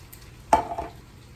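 A spoon gives a short scrape and clink as Rotel is stirred into meat in a pan, with a faint sizzle underneath, then it goes quiet.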